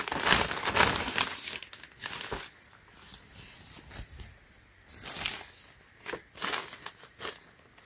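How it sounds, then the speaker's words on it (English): A plastic Ziploc bag crinkles and rustles close by in irregular bursts, loud handling alternating with quieter stretches of soft crackle. "This is a nice Ziploc bag."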